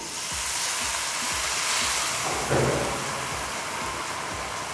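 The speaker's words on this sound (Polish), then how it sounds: "I kolejny raz dodaję teraz wody do wysokości." Water splashed into a hot pan after browning beef steak with a garlic clove sends up a loud, steady hissing sizzle, with a brief louder burst midway.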